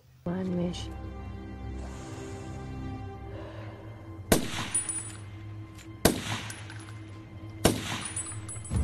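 Sniper gunfire in the action film Rogue Warfare: three sharp, loud shots spaced about two seconds apart, ringing out over low rumbling background sound.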